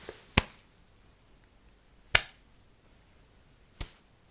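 Sharp hand claps sound in an ASMR hearing test, three crisp, close claps spaced about one and a half seconds apart against near silence, the last slightly softer.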